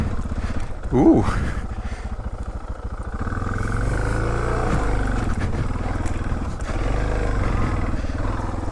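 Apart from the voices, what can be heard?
motorcycle engine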